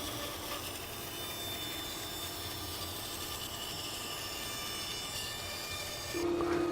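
A bandsaw resaws a board of Jarrah hardwood down to about 12mm thick, giving a steady, loud, continuous rasping whir with a constant motor hum, shifting to a louder, more tonal drone in the final half second; no voices.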